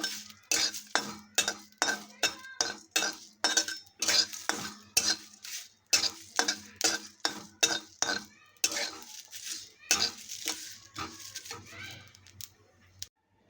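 Cumin seeds dry roasting in a kadai over a low flame, stirred with a metal spoon that scrapes and clinks in a quick regular rhythm, close and clear with no talk.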